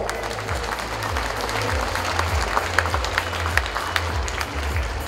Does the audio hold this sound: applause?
yes